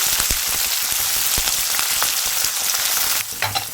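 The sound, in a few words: chopped green chillies and onion frying in hot oil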